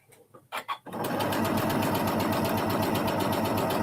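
Soft handling clicks give way to a sewing machine stitching fabric, a close, steady, fast-running whir that continues without pause; no one speaks.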